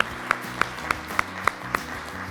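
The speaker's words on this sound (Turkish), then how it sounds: "Evet iki gruba da bir alkış geliyor." Sharp, evenly spaced hits recur about every third of a second at a game show, a steady rhythmic clapping for both teams over a busy studio background.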